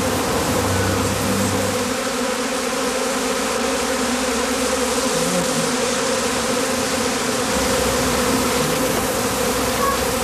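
Honey bees buzzing around a bee skep, a dense steady drone of many insects close by, continuous and even throughout with no voices.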